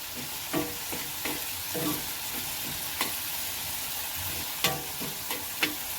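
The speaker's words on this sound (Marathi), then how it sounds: "मीठ टाकून घेते मीठ चवीनुसार टाकूचा नाही तर खार होईल वैत थोडासा शितळते अजून आणि चांगला ढवळून घेऊया" Clam masala being stirred in a frying pan, with a steady sizzle of frying under repeated scraping strokes of the spoon against the pan, several sharper clinks spaced through it.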